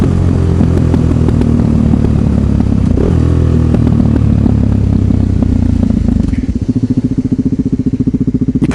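A motorcycle engine rumbles loudly up close while riding through traffic, a dense, steady roar with wind buffeting, shifting into a lower, rapidly pulsing idle-like throb near the end.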